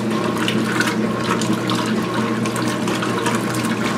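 A washing machine runs with water: steady rushing and splashing water with a constant mechanical hum, close and continuous.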